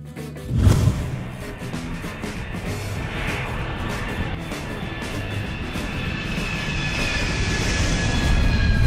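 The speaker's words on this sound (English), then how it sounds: "Private jet." A cartoon private jet roars past. A sharp crash-like burst opens it, then a sustained, steadily building engine whine and rumble fills the rest of the span, growing slightly louder toward the end.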